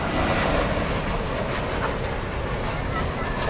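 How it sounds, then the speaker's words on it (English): Volaris airliner taking off at night at DFW Airport, a steady broadband engine roar with deep rumble, continuous and fairly loud throughout without clear speech. "we got Volaris taking off"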